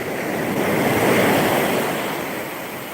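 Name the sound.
ocean tide coming in, waves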